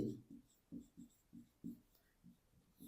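Pen writing on paper while working a Hindi-language class 8 maths problem, a series of short scratchy strokes in quick bursts, close and fairly quiet, with no talk over it.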